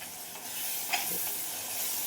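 Soaked spices frying in hot oil in a home kitchen, a steady soft sizzle with faint stirring scrapes and one small clink, quiet and close, no talking.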